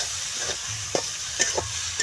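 Stirring rice flour into greens cooking in a pan: soft sizzling under a few quick scraping strokes of a spoon, close and fairly quiet, with no voices.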